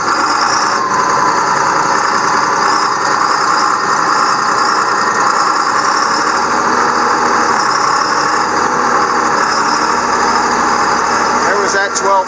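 Engine of a truck, 4960, running steadily at about 1800 RPM in 12th gear while climbing a hill, a continuous loud drone with a constant rumble throughout and no talk over it.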